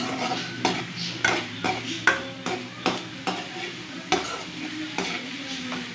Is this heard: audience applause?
no